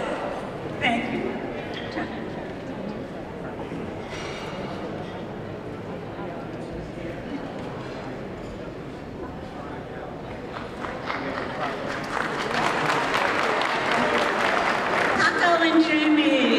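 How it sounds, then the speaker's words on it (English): Audience applause at a scholarship fund fashion show, a broad crowd wash under a voice addressing the room, swelling into fuller, louder clapping toward the end. "Paco and Jamie, loud applause, applause, applause."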